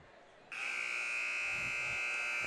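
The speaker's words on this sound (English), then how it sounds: "As the starting buzzer rings off." A loud, steady electronic buzzer at a high school basketball game starts abruptly and drones on without a break, with faint crowd noise beneath it.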